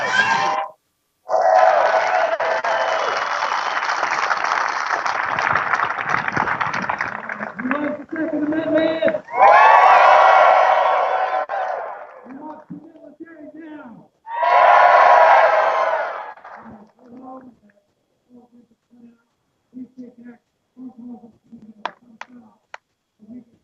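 Rally crowd at a Second Amendment rally in Boise, Idaho, breaking into loud cheering and shouting in several bursts, with quieter stretches of scattered voices and talk between them.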